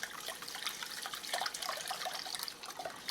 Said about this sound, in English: in goes 2 cups of half and half